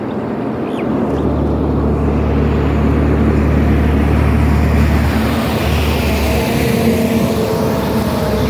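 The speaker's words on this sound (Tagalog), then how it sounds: "Ayun, napakalaking truck." A large truck passes, its deep engine drone and tire roar swelling up close and holding steady, loud and continuous, with no one speaking.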